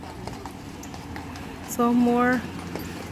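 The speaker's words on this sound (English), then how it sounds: "these are our horses and carriage" Horses pulling a carriage at Lost Canyon clop their hooves in a soft, steady rhythm under outdoor ambience, with a brief sustained tonal sound partway through and voices faintly present.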